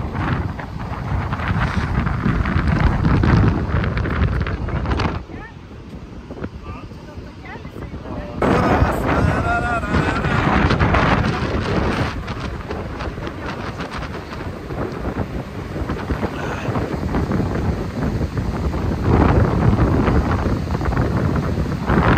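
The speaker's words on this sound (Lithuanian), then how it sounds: "jūra šėlsta" A rough Baltic sea and gale-force wind near Palanga roar in a loud, continuous blast of buffeting wind against the microphone and crashing surf, dipping briefly before surging back, while someone talks.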